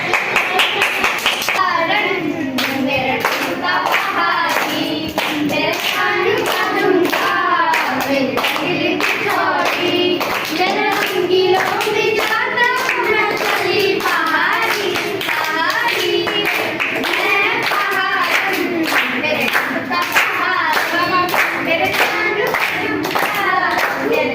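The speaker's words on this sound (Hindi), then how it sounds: "इसके लिए तालियां।" Dense, continuous audience clapping after a child's Pahari song at an Uttarakhandi gathering, many hands at once, loud and sustained throughout with no pause.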